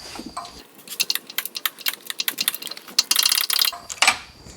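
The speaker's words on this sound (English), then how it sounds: "So I just got a ratchet with a 14 millimeter." A 14 mm ratchet clicks rapidly and repeatedly as it loosens the timing belt tensioner on a turbo Acura Integra with a B18C1 engine, a close run of crisp ratcheting bursts with no talk.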